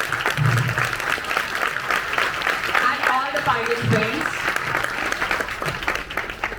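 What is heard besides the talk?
audience applause for hackathon winners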